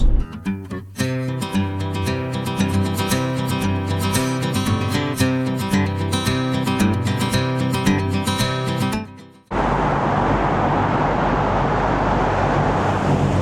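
Van driving through a 25-kilometre road tunnel in Norway, a loud, constant roar of engine and road noise echoing off the tunnel walls, with a steady hum that shifts to a broader wash of noise near the end.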